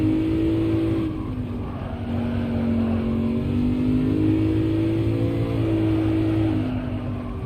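A race car engine in Gran Turismo 7 drones loud and steady, its pitch rising and falling as the car accelerates and eases off through corners. It runs alone, with no voices over it.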